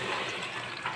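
Water poured into a pan of adobo chicken liver with soy sauce and vinegar, a brief, steady splashing rush lasting about a second.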